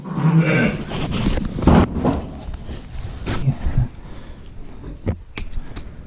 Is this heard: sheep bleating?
yes